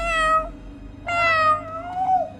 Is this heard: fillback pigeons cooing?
no